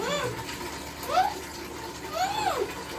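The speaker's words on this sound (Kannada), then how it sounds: "ನೆಕ್ಸ್ಟ್ ಇದಕ್ಕೆ ಸ್ವಲ್ಪ ವಾಟರ್ ಇಟ್ಕೊಳ್ಳೋಣ. ಸ್ಟೀಮ್ ಆಗಬೇಕಾದ್ರೆ ಅದು ವಾಟರ್ ಇಟ್ಕೊಳ್ಳೋಣ ಫಸ್ಟು." Water is poured into a pot to steam jackfruit kadubu, making a continuous splashing gush with rising, swelling surges. It sounds moderately close in a home kitchen.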